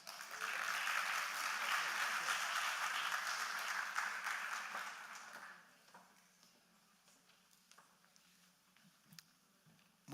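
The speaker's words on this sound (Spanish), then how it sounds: "A él este fuerte aplauso" Audience applause at a Bogotá cities forum on academia and activism, welcoming the moderator from the Franz Weber Foundation; steady clapping for about five seconds, then fading into quiet room noise.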